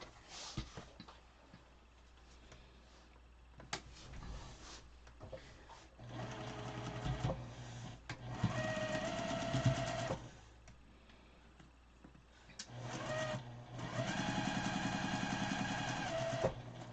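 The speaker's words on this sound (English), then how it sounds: "now let's sew it" A domestic sewing machine stitches through a bulky quilt block in several bursts of rapid, steady mechanical whirring, separated by short pauses, close and fairly quiet.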